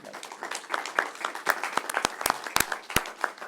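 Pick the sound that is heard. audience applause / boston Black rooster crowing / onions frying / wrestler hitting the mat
audience applause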